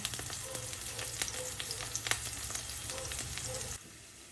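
Garlic frying in oil for chopsuey, a continuous close sizzle with scattered spits and crackles that cuts off abruptly near the end.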